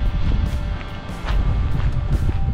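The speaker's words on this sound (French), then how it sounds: "Un grand vent, 40 km/h aujourd'hui." Strong wind of about 40 km/h gusting across an open coastal hiking trail in Brittany, a loud, continuous buffeting roar pressing hard on the microphone with no voices.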